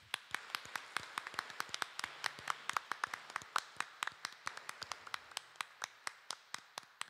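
A church congregation at a Catholic weekday Mass claps with sharp, distinct, scattered handclaps in a loose rhythm, heard alone in a quiet room.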